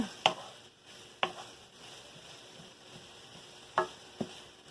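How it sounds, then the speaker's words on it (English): Aromatics sautéing in a pan for Malaysian coconut chicken curry with potatoes: a faint, low sizzle under four sharp utensil clacks against the pan at irregular intervals, quiet and close. "Get this sauteed up a little bit."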